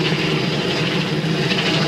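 Helicopters circling close overhead at an erupting volcano in Iceland, a loud, steady rotor and engine drone that fills the whole short stretch without a break.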